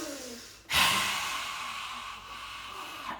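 A single deep inhalation during an outdoor qi gong session in Ibiza, a sudden close breathy rush that swells and then slowly tapers off, heard alone without talk.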